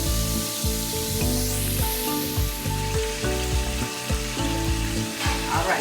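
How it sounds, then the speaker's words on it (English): Chicken wings deep frying in hot oil make a loud, steady crackle and sizzle close by, with bubbling pops all the way through and no voices. "I got 4 wings left to fry"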